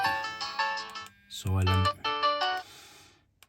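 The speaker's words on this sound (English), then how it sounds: "So that's your keypad tone, your battery, low tone, your power ring, powering on, ringing." Ringtones and alert tones from an imo dash 4G phone play in quick succession: a melodic ring, short beeps, a low tone and a bright power-on chime, clear and close.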